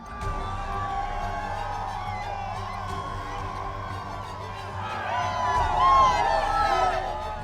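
A large crowd cheers and whoops at Donald Trump's New Hampshire primary rally, a steady roar that swells louder toward the end over a low, sustained background.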